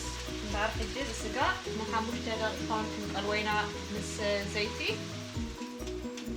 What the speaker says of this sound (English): Now we are cooking meat with oil for about 5 minutes.